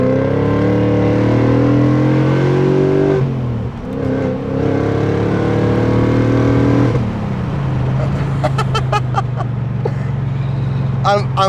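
A BMW E39 540i with its oil pressure light flickering revs loudly while driving, a steady, throaty engine drone that dips and rises again, with rattling noises from the worn car.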